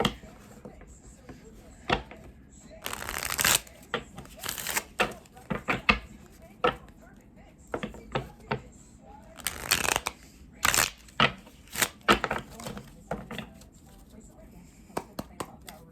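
Tarot cards being shuffled for a card reading: repeated bursts of riffling and flicking card sounds, close and fairly loud, with quiet pauses between bursts.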